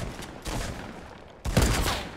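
Muffled bursts of automatic gunfire in a Fortnite: Battle Royale squad match, a quieter volley followed by a louder, closer burst.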